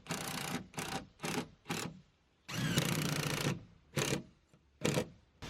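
Screws being driven into T1-11 tongue-and-groove siding sheets on a playhouse with a power drill, in repeated loud bursts of whirring, one long run in the middle, with short pauses between, close by.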